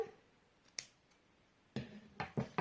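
Scissors snip the yarn ends of a handmade pompom in a quiet room, with a single close cut followed by a quick run of three crisp snips.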